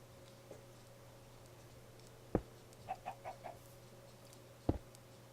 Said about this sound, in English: And chickens are everywhere.